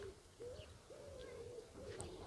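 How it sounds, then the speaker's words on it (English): Pigeons or doves cooing repeatedly by a harbour at dusk, soft and somewhat distant over a low background hum, with no voices. "Just the birds that's going mad tonight"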